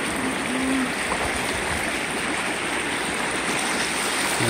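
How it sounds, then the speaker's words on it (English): A river stream in Idaho flows steadily with a constant broadband rush of water, close and even throughout with no talking. "And then there is the river that I be sitting in."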